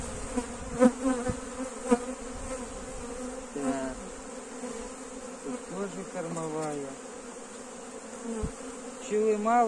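Honeybees buzz around hive frames during spring beekeeping work, a steady droning hum with individual bees darting close and away, while someone talks quietly now and then.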